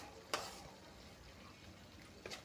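Ginger and okra frying in a pan for okra gravy while being stirred, a soft steady sizzle with two brief sharp scraping clicks from the stirring near the start and end.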